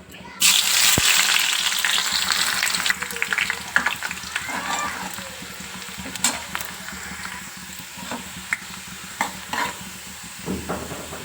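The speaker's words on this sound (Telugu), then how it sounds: "ఇప్పుడు ఇవి ఫ్రైడ్ ఆనియన్స్ చేసుకుందాం" Thinly sliced onions, cut into rings, sizzle and hiss steadily in hot oil for chicken dum biryani, with stirring scrapes and occasional clacks over a constant close frying crackle.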